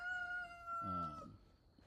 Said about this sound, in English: And we have our new rooster resident, Roger.